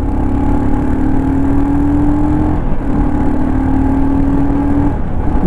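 Royal Enfield Scram 440 motorcycle riding and accelerating, its engine note climbing steadily, dropping briefly at a gear change, then rising again, loud and close with wind rush.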